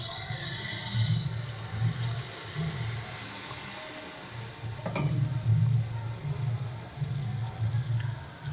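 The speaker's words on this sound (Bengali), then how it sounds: "এদিকে আমাদের তেল গরম হয়ে এসছে, প্রায় গরম হয়ে গেছে। এবার এর মধ্যে আমরা এক এক করে মালপোয়াগুলো ছেড়ে দেব।" Malpua, sweet Bengali pancakes, frying in hot oil for Holi, giving a steady crackling sizzle with a low bubbling rumble that swells and eases, close by with no talk.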